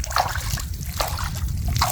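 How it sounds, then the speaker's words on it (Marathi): An old man sprays water over a fenugreek crop on a farm in the cool evening, with uneven splashing and trickling bursts close by over a low background rumble. "आजोबा पाणी मार राहिले"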